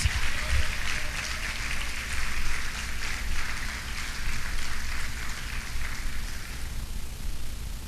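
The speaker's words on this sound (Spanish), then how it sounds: "Vamos a dar una ofrenda de palmas" A congregation applauds during a sermon on the Holy Spirit, many hands clapping in a sustained, moderately loud patter that swells and fades slightly, with no speech over it.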